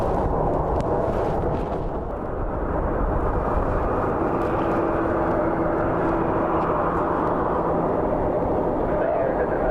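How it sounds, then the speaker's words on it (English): A United Airlines Boeing 737 at Cleveland Hopkins airport makes a steady, loud, broad jet roar with a faint engine whine, holding level for about ten seconds. "United Airlines 737"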